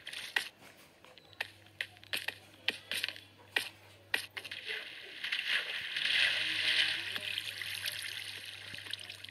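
Flowing water in Minecraft, a soft trickling wash that swells in the second half beneath repeated sharp clicking and tapping of mining blocks, with a low steady hum underneath.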